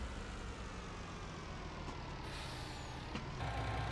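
Truck reversing in the Farming Simulator video game: a steady low engine drone with faint hiss throughout, rising slightly near the end, with no talking.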